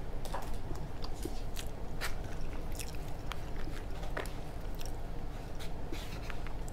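Close, steady biting and chewing of a whole salted flounder, with wet crunches and crackles spread through a continuous, busy stream of mouth sounds and no talking.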